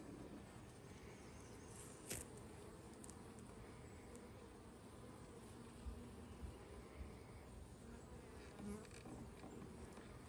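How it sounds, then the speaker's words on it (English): Bees buzz steadily during a one-week beehive inspection, a soft continuous droning hum with faint individual wingbeats passing close by, alone without talk. "Don't smush a bee."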